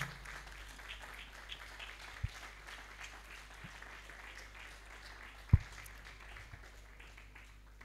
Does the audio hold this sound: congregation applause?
yes